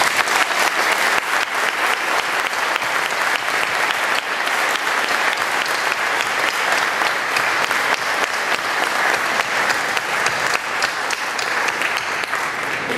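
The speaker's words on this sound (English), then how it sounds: "let's give our veterans a round of applause" Loud, steady audience applause for veterans at a Veterans Day ceremony fills the whole stretch, a dense wash of many hands clapping without pause.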